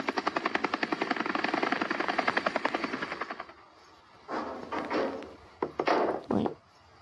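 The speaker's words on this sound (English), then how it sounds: "It's just a helicopter going by." A helicopter passes with loud, rapid rotor chopping for about three and a half seconds before cutting off, followed by a few scattered bursts of other noise.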